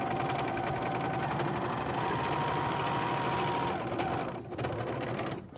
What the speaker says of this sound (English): And we just serge those right together.